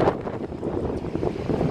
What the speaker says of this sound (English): It's getting windy again.